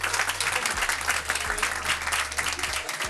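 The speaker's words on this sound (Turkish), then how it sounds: "Alkışlıyoruz hanımefendi." Quiz night crowd applauds a woman, a dense, even patter of many clapping hands over a low background hum, with a voice faintly underneath.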